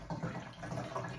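A water tap opens to full blast after air in the line clears, a faint, steady rushing hiss of running water with no voices.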